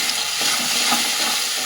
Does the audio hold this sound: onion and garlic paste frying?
yes